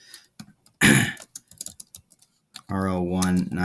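Quick bursts of typing on a computer keyboard clatter at close range between pauses, and a person speaks over a short stretch of it.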